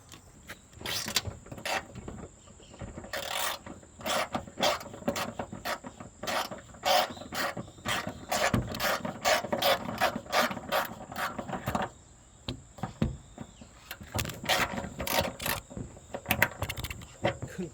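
A wrench works bolts loose on the front fender of a Hyundai Starex, giving rapid ratcheting clicks in bursts with scraping metal in between, close up and continuing steadily with short pauses.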